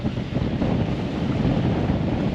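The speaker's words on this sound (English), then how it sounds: "We're against the wind and we're against the current, so we're motor sailing." Wind buffeting a sailboat that is motor sailing against both wind and current: a loud, steady roar with microphone wind noise and low rumble throughout, no voices.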